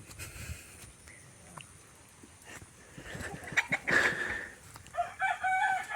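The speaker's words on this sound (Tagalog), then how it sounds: "Manok ko." A rooster crows nearby toward the end, loud against quiet background noise, followed by further clucking calls.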